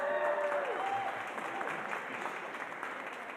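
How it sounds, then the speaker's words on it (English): An audience applauds steadily and at close range throughout at a mayor's neighborhood coffee hour event in Boston's Chinatown, with a brief voice-like tone near the start. "I don't need claps for every line"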